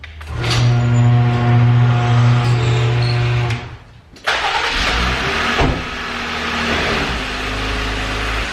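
A 2024 Jeep Rubicon engine runs steadily nearby with a low droning hum, breaks off briefly, then restarts and settles into a rougher, louder idle with some clunks as the vehicles are moved.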